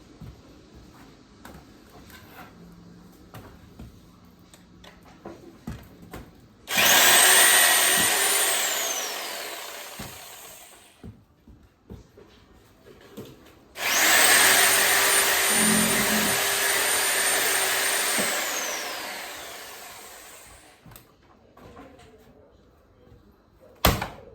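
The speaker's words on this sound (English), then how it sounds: "I just get the sawzall and cut them hindquarters off" Reciprocating saw cutting through deer hindquarters: two loud, close buzzing bursts of several seconds each, the second longer and tapering as it cuts through, with quieter handling noises between and after.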